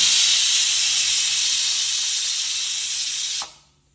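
A pressure cooker whistle on a stove cooking sambar lets out a strong, steady hiss of escaping steam up close, then cuts off abruptly near the end.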